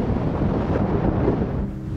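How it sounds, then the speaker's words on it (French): Very strong gusting wind by the sea in Northern Ireland, buffeting the microphone with a deep, loud, continuous roar that swells and eases, close and rumbling, with no voices. "Et c'est juste énormément de vent."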